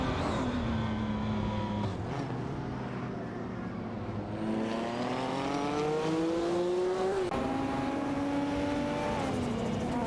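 Race car engines in a racing video game, a Dodge Viper GTS ACR and a BMW battling, loud sustained revving with rising and falling pitch through gear changes, several engines layered, no talking.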